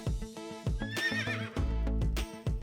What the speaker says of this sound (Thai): รถม้าฉันมาแล้ว